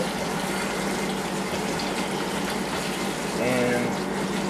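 Tap water runs steadily to thaw frozen shrimp, a loud continuous gush with a brief change in pitch near the end as the flow shifts.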